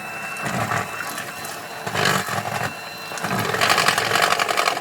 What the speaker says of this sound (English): And we use our hand mixer for approximately 5 minutes.